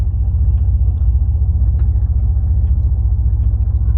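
A 2000 Chevrolet Blazer ZR2 rolls forward slowly, its engine giving a steady, close low rumble that holds even throughout with no clear revving and no talk.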